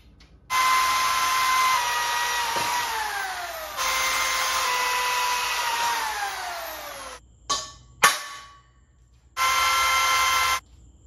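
A step drill bit bores holes in a DIY receiver-hitch umbrella stand, the power drill whining loudly in long sustained bursts with falling pitch as it cuts, separated by brief pauses and a couple of short clunks.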